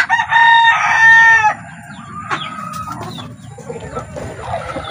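A fighting rooster crows loudly and close for over a second, followed by softer clucks and faint farmyard bird sounds in the background.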